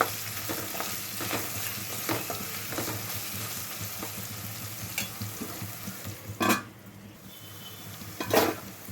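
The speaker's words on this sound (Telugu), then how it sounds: "అల్లం వెల్లుల్లి పేస్ట్ మంచిగా వేగిపోయిందండి." Ginger garlic paste frying in a pan for an old-style tomato gongura curry, a steady close sizzle with a spoon scraping and stirring the pan at intervals and a couple of sharper clinks near the end.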